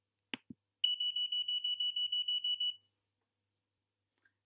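An alarm clock beeps in rapid, evenly pulsed bursts for about two seconds and then stops, loud and close against near silence, with a couple of faint clicks before and after.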